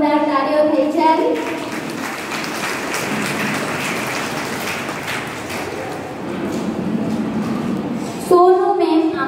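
A crowd at a women's day event gives loud, steady applause to welcome a guest, and a speaker's voice is heard just before and just after the clapping.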